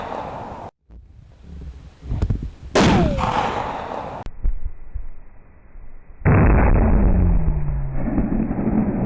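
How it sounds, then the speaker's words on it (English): Heavy booming reports from a Barrett .50 caliber rifle fitted with a silencer, fired outdoors, several loud concussive blasts with wind noise and rumbling decay between them. "we're going to take the Barrett 50 out this time and give it a try"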